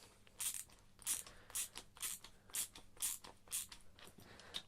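A flathead screwdriver turns a screw on a DIY camera dolly, producing a faint, rhythmic series of small clicking, scraping twists, about eight evenly spaced strokes close by with no talking.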